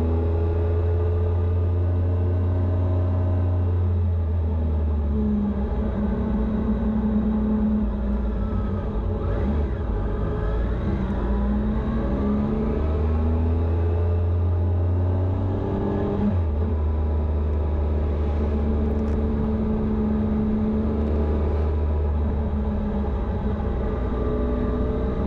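Triumph Tiger 800 XRT motorcycle engine droning steadily while riding, a loud, continuous low hum with the pitch rising and falling as the rider shifts and accelerates, with wind rush layered over it.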